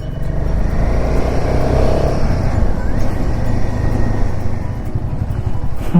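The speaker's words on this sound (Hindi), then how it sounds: "गाड़ी आ रही है।" Vehicle engine droning steadily close by on a looping mountain road toward Padum in Ladakh's Zanskar valley, a loud continuous rumble that swells slightly and holds for the whole stretch.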